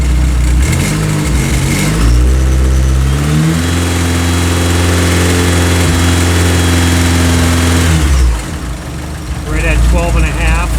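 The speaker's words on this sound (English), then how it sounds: "I'm going to give it a little gas." Turbocharged 1996-2000 Honda Civic engine given a little gas, a loud close idle that rises into a steady held rev, then drops back, with a voice talking over it.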